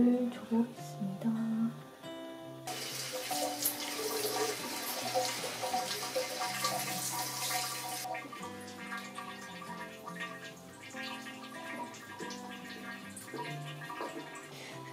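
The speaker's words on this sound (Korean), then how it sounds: "이제 물을 줘보겠습니다" Water poured into a potted house plant over very dry soil, a steady trickling stream that swells into a louder rush midway and then eases back, heard fairly close with no one talking.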